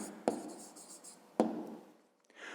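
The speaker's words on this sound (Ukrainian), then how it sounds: "Пишемо відповідь." A pen writes an answer on paper in two short bursts of scratching strokes, each starting with a tap, close and quiet with no talk.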